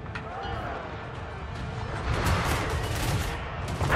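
Rapid gunfire and crackling volleys from a Total War fantasy battle with Empire forces, dense and continuous, swelling louder midway, with someone talking over the din.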